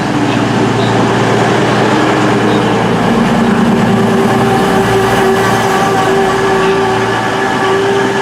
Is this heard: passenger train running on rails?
yes